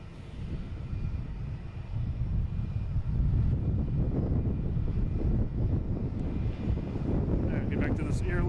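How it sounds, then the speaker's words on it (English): Aer Lingus Airbus A330, flight 33 from Dublin, on approach to land at Boston Logan, a steady broadband engine roar that swells after the first couple of seconds and holds loud, with wind noise and voices talking in the background. "All right, get back to this Aer Lingus coming in."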